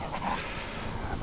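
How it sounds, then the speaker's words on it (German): A dog attacks the player in the video game Die Young, giving short panting, whimpering growls and yips layered over a dense, steady game soundscape. "Ich wurde vom Hund gefressen."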